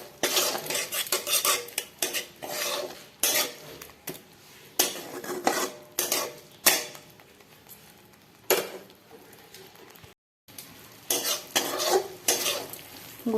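A spoon stirs tomato with meat masala and coriander powder in a sizzling pan, scraping and clinking in irregular bursts with a brief silent gap, no talk.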